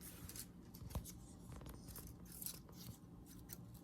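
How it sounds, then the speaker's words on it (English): Scissors snip stray wires on a painted pinecone fall wreath, a few faint, close cuts and small scrapes against quiet room tone. "All we have to do is just kind of trim those up."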